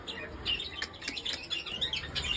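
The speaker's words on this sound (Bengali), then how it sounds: "ভেতরে পাখি, কত সুন্দর পাখি" Small birds chirping in a garden enclosure at a rural mission campus, a quick scatter of faint high tweets and calls repeating throughout, somewhat distant over low background noise.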